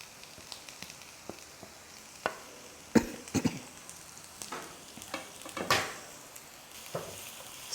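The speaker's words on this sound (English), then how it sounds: "stir fry this." Onions and garlic stir-frying in oil: a steady sizzle with sharp clacks and scrapes of a spatula against the pan, several louder stirring bursts, close and with no talking.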